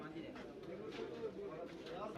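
Soft pigeon coos murmur amid a busy crowd at a pigeon market in Bangladesh, with people talking steadily over a continuous background of market chatter.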